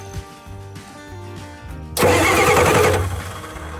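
A Ford F350 dually truck's starter is jumped by hand, giving a brief low cranking before the engine catches and bursts into a loud, rough idle that holds steady to the end.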